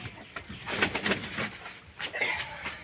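Domestic pigeons coo at a home loft in soft, rounded bursts close by, a few calls repeating over a quiet background.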